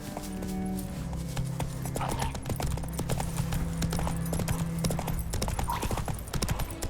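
Roach, a horse in a video game, gallops along with a steady clip-clop of hooves in the foreground, backed by continuous music and occasional game sounds.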